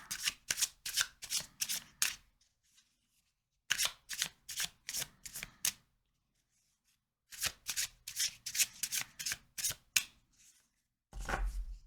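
A deck of tarot cards is riffle-shuffled in three quick bursts of rapid, crisp flutters, each separated by a short pause, close and fairly quiet, ending with a brief rustle.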